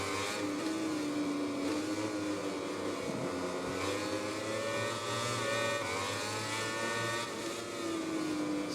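MotoGP motorcycles racing in the video game MotoGP 20, a steady high-pitched engine whine holding throughout with slight pitch changes, no talk over it.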